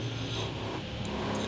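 A 1972 Formula 2 racing car downshifts hard going into a right-hand turn. Its engine gives a steady, loud, close roar that rasps throughout the brief moment, with no talking.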